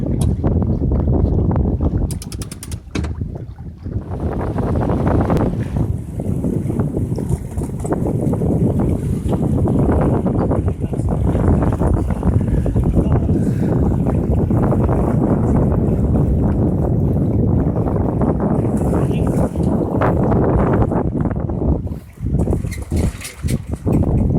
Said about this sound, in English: And we're sailing.